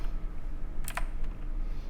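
A short run of keystrokes typed on a computer keyboard while writing p5.js code, a few crisp clicks clustered together then a lone tap, close and quiet over faint room hiss.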